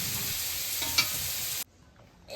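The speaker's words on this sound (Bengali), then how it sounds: "তার সাথে এবার মা ভাজতে আরম্ভ করেছে" Paneer frying in a pan sends up a dense, loud sizzle with a single sharp clink partway through, then cuts abruptly to near silence.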